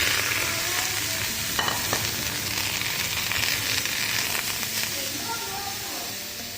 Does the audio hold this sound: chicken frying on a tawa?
yes